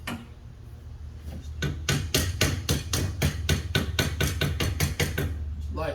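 A hammer lightly tapping small metal tabs into place, a steady run of about seventeen sharp, evenly spaced knocks that begins after a quiet opening second and continues close and clear.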